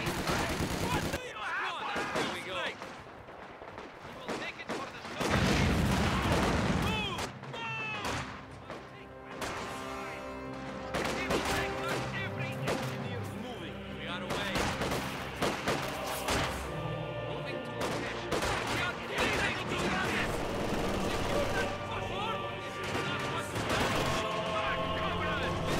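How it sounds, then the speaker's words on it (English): Gunfire and artillery from a Company of Heroes 2 battle keep up a dense barrage of shots, thuds and heavy blasts, with soldiers' voices calling out over the din. "The enemy has us range! How can we help? Engineers, enemy fire!"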